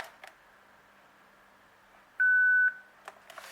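A VTech cordless phone, just plugged back in, gives a single loud, steady electronic start-up tone lasting about half a second, with a few faint clicks before and after.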